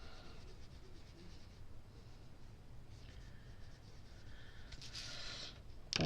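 A Derwent Chromaflow colored pencil scratches softly across paper while coloring in a swatch, a faint continuous dry rasp in a quiet room, with a brief louder rustle near the end.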